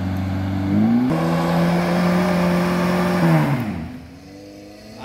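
A Suzuki off-road vehicle, a Vitara or Jimny, revs hard while climbing in the Ngingas ravine, a loud close engine roar that holds steady and then drops away to a quieter idle.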